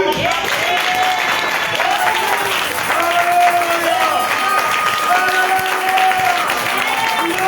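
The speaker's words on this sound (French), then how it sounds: "Et là, acclamons pour Jésus." A church congregation applauds during a Sunday service, producing steady, dense clapping that fills the whole stretch, with voices rising and calling out over it.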